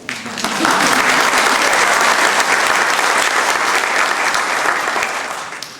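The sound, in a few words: audience applause at graduation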